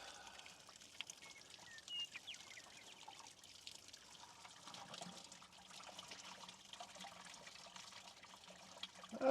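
Water drains and trickles out of a petcock on haying equipment outdoors, a faint, steady dribble that runs through the whole stretch with no talk over it.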